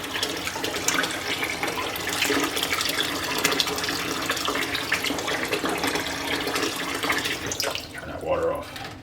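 A tap runs steadily as fresh eggs are washed under it in a sink, giving a continuous close splashing hiss with small shifts as the eggs are handled, fading toward the end.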